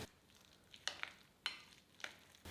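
Vegetable tempering being stirred into a rice batter for a quick breakfast dish, heard as a few quiet, sharp scraping and sloshing strokes spaced irregularly, with no talking.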